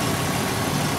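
A 2003 Ford Explorer with a 4.0-liter six-cylinder engine idling steadily, a close, even low rumble with no talking.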